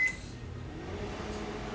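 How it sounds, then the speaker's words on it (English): A microwave oven heats a dish covered with a damp paper towel for 30 seconds. A quick high beep is followed by a steady low hum that continues evenly throughout, with no talking. "I'm going to microwave it for 30 seconds."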